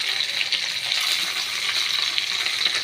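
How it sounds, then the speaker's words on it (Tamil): Onions frying in a pan with tomato and a little cumin give a constant, even sizzle close by, with no breaks and no voices. "வெங்காயம் நல்லா வதங்கிறதுக்காக"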